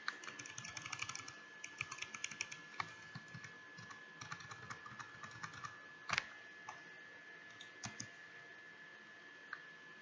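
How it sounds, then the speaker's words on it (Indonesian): Steady typing on a computer keyboard, fairly quiet and close, with a fast irregular run of key clicks and a few sharper taps near the end, heard alone without speech. "Saya ketik ulang."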